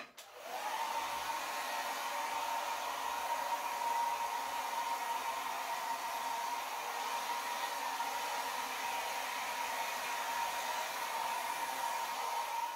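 Acrylic pour paint being blown across a canvas to open up cells, likely with a hair dryer, giving a steady, even, close whooshing airflow that runs unbroken and alone for the whole stretch.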